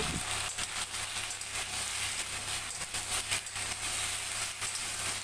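Taro pieces coated in turmeric, cumin, coriander and chilli powder frying in a pan, a continuous hissing sizzle with irregular stirring scrapes close by.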